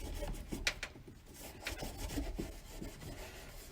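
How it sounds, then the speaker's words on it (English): An aluminum cylinder head surface is rubbed clean by hand, giving close, uneven scraping and rasping strokes with a few sharper scrubs. No one speaks. "I'm just going to clean this off to my best of ability."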